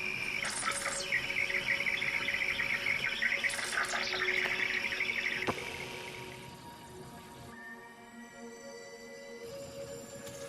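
An electronic-sounding sonified signal of shrill, chirping tones and steady high whines, busy at first and thinning into sustained faint hums.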